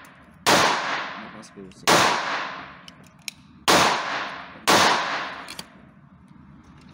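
Four loud, sharp 9 mm pistol shots at an outdoor shooting range, spaced roughly a second or more apart, each with a ringing decay, with brief speech in between.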